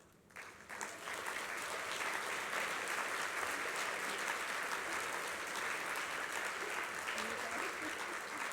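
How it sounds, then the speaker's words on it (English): Sustained audience applause fills a general session hall at an aging-services conference, a dense steady clapping that swells in after a quiet first moment and holds loud throughout. "Please give them another round of applause."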